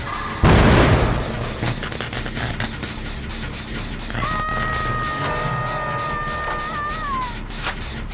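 A loud explosion in the video game Dead by Daylight booms out near the start, followed by a steady rumbling background and a high, wavering whine that rises and falls for a few seconds.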